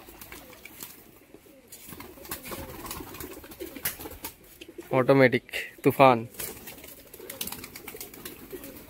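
Pigeons being fed give two short, close coos in quick succession against faint background noise, with people talking nearby.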